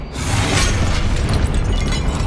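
A Confringo explosion spell bursts in Hogwarts Legacy, a loud, dense blast that fills the whole moment with rumbling, crackling noise and no voices over it.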